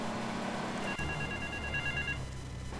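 Telephone ringing in the video game GTA III, a short electronic ring tone of two bright pulsing bursts over game background noise, clear and near.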